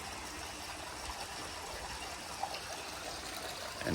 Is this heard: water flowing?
yes